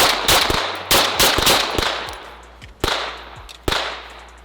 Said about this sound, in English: we're doing our first shots with the Bul Blaze